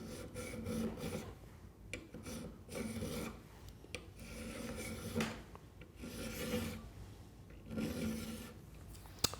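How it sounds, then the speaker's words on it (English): A round file rasps against a brass leg in repeated back-and-forth strokes, a dry scraping rhythm of about six passes with brief pauses between them, close and moderately quiet. "Now that line acts as a guide for what I'm going to use next, which is a round file."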